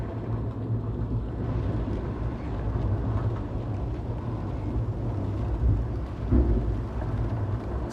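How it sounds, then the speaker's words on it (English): A thunderstorm rages in the Hitman video game, steady rain hissing over low rumbling thunder around huts by a pier, with a heavier roll near the end and no talk. "When you enter the huts, you still hear the presence of the storm outside"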